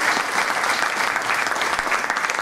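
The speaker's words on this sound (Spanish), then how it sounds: "Aquí le vamos a dar un fuerte aplauso y la vamos a escuchar atentamente." Dense audience applause fills a celebration event for community leaders in San Nicolás, a steady wash of many hands clapping at full volume with no pauses and no voices.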